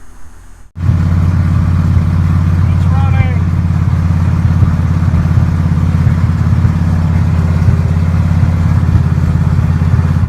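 A 1976 Ford F150 V8 with a sticky carburetor linkage cranks and catches, then settles into a loud, steady idle that rumbles on for the rest of the clip, close and unbroken.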